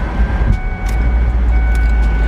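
A worn, used car idles with a steady, loud low-end engine rumble that holds continuously, with faint higher tones and brief noises over it and no talking.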